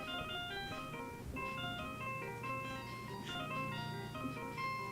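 A theme from the Phoenix Wright: Ace Attorney video game playing as a cell phone ringtone, a steady, continuous electronic melody with bright synth notes heard alone throughout.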